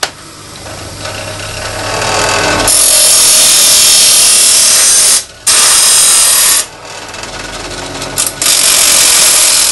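A metal scraper for woodworking is ground to shape, a loud harsh continuous grinding that starts abruptly and cuts out twice briefly before resuming, close and without talk.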